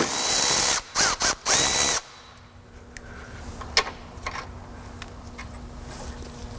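A ratchet clicks through quick bursts of turns on a GMT400 Chevy truck as the shift linkage is removed. Close, loud metallic ratcheting is followed by quieter taps and clinks of parts in a garage.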